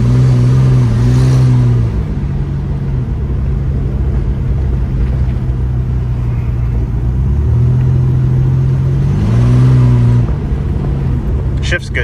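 A 1986 Ford Ranger pickup truck engine driving along with a loud, close cabin rumble, revving up twice as it accelerates and shifts, while a voice talks over it.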